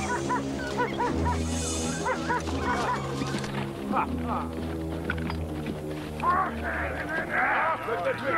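Several dogs bark, yip and whimper excitedly in a drama film scene, the yelps overlapping and continuous, with people talking over the commotion and a low rumbling background.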